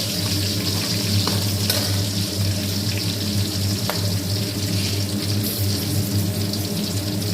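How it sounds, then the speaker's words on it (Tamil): Shallots and green chillies sauté in a pan for a pomfret fish curry. A continuous close frying crackle plays over a low steady hum, with a couple of light utensil taps and no speech. "அந்த சின்ன வெங்காயத்தையும் போட்டு நல்லா வதக்கிக்கோங்க"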